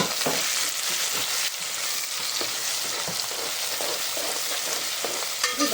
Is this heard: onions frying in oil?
yes